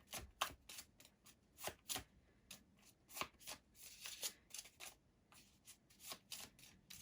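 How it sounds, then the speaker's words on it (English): Tarot cards being shuffled by hand in a series of crisp riffling and slapping bursts, close and fairly quiet, with uneven rhythm and brief pauses between shuffles and no talking. "I will pick the top card after a couple of shuffles"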